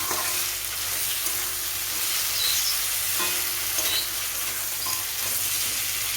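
Spice paste seasoned with salt and turmeric fries with a steady, close sizzle for a cauliflower, potato and egg roast, while a spoon stirs it in occasional scraping strokes; no one speaks.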